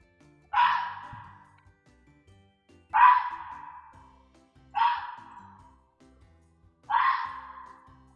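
A fox gives four sharp, barking calls, evenly spaced a couple of seconds apart, each a short bright yap with a quick fade, heard alone against quiet background.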